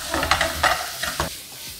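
Chopped tomatoes and onions sizzle in a frying pan while being stirred, giving a loud crackling hiss with repeated scraping strokes of the utensil at an uneven rhythm, close by and with no talking.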